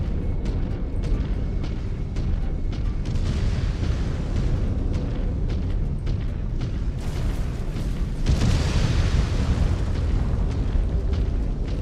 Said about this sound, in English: There's artillery bombing now.